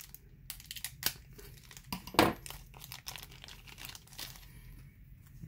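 Plastic and cardboard packaging of a Bakugan starter kit being cut open and pulled apart, close crinkling and tearing sounds in irregular bursts with one louder rip.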